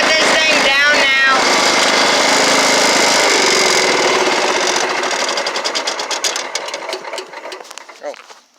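A 1995–1998 Craftsman lawn mower engine runs loud and close with a rapid, buzzing chatter, then winds down and sputters to a stop.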